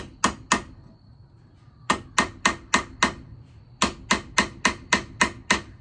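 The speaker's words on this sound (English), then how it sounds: "I am going to ping this just slightly, and I'm going to do it on this anvil right here" A knife blade tapped lightly against the rounded spot of an anvil, with crisp metallic pings coming in quick evenly spaced groups of two, five and seven, each with a short ringing decay over a quiet room.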